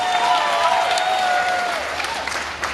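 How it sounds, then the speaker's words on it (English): Audience applause on a cruise ship during a cake challenge, a steady wash of clapping from a crowd with some cheering mixed in, a tonal whistle or tone running faintly through it. "big round of applause for our hotel director Gary Davis."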